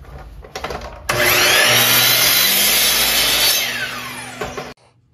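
A power saw trims the ends of oak, cherry and walnut boards, spinning up with a short whine, then a loud sustained cut of about four seconds before spinning down abruptly, with no voices.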